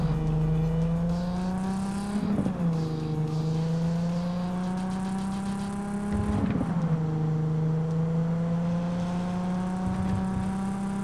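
A car in Cyberpunk 2077 drives at a steady, droning engine tone that rises twice in brief revs before settling back, with faint game ambience and no talk.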